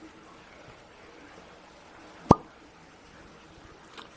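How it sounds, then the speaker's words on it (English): Cork pulled from a bottle of Widow Jane 10 Year whiskey, a single sharp close pop in a quiet room, followed by a faint small knock. "So let's pop the cork on the Widow Jane and see what it offers us."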